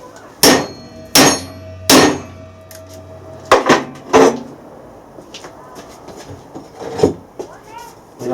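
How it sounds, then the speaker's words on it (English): A hammer strikes MIG-welded steel clamped in a vise, giving several loud, sharp metallic clanks spaced irregularly, some in quick pairs, with lighter taps and someone talking between the blows. "We just put it in the vise and give it a little bit of knock with a hammer"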